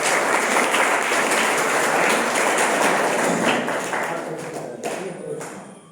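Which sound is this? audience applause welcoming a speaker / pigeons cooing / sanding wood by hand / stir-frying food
audience applause welcoming a speaker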